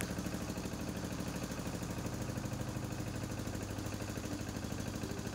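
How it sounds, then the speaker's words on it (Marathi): A motorboat engine runs at a constant throb close by, steady and loud from start to finish, with no one speaking. "तर होडीमध्ये बसलेलो आहे आणि होडी सुरू झालेली आहे"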